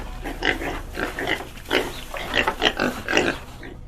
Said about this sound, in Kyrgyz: жана чочколорду